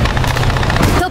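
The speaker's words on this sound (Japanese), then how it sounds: "支援砲撃始め" Support artillery barrage in War Thunder, German gameplay: dense, continuous booming fire packed into a little over a second, loud and close, with a rolling rumble and no clear gaps between blasts.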